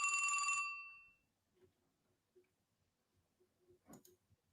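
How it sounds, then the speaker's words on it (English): A phone rings as a short bright bell-like burst lasting under a second at the start, loud and close, followed by near-silence with a few faint soft clicks. "It's the phone ringing"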